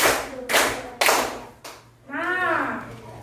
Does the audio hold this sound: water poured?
no